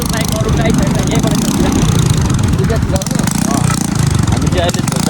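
A one-piece motorcycle engine runs at a steady idle-like chug close by in Nepal, its continuous rumble sitting under someone talking throughout.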